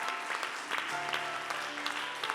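A church congregation clapping during a sermon, a dense, steady round of applause from a crowd that carries on through the clip while a voice talks faintly underneath.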